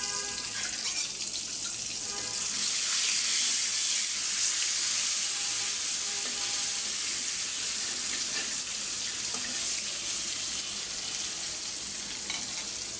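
Punti fish frying in a pan coated with spices, a steady, bright, close sizzle that crackles continuously without pause.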